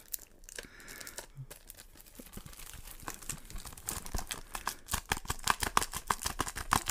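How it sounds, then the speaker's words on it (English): Cellophane wrap being peeled from a Blu-ray case, close soft crinkling that builds into rapid crackling tears and rustles, with no voices. "is going to unwrap the Blu-ray case."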